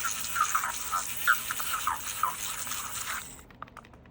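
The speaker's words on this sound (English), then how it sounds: "I like to scrape the sides, get down some of the clumps that were dry, and just get this nice and smooth." Soap batter for cold process soap scraped around the sides of a mixing bowl, a close, steady wet scraping and smearing with soft rhythmic strokes that stops abruptly near the end.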